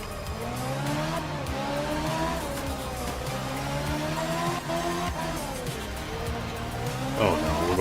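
A race car in a racing game slides sideways, its engine droning and revving steadily while tires squeal in long wavering tones, ending with a louder sharp screech.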